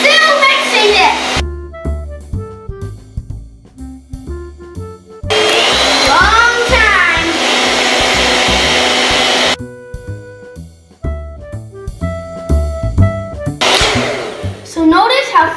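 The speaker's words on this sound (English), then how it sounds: "So now I'm still mixing it." An electric mixer whirs through cake batter in a home kitchen, with a steady loud burst of motor noise in the middle and shorter stretches before and after, set against tonal background sounds.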